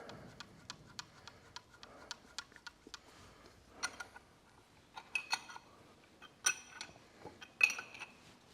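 A cheap spanner tightening a bolt on a Massey Ferguson 65 crownwheel carrier, a series of small metallic ticks and clicks in a steady ratcheting rhythm, growing louder and sharper toward the end, no voices.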